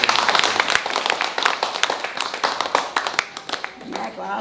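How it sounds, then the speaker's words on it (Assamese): Audience at a 31st birthday gathering claps hands loudly and raggedly, a dense burst of sharp individual claps lasting a few seconds, with voices audible underneath. "জোৰকৈ হাত চাপৰি"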